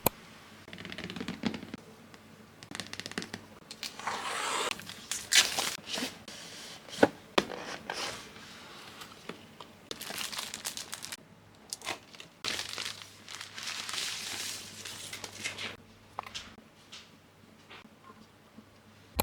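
A package holding a wireless mechanical keyboard is opened by hand, with bursts of crinkling plastic, tearing and rustling cardboard, plus a few sharp taps, close and fairly quiet, alone without talk.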